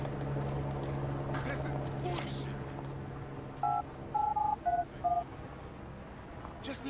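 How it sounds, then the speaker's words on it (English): A phone in Watch Dogs Legion gives a text message alert: a quick run of short, clipped electronic beeps over low game ambience, after a voice speaks. "But somebody just sent you a text message."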